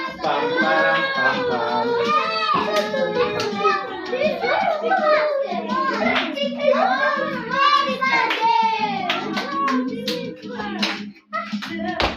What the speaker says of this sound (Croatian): Aplauz za Veljka Balanovića.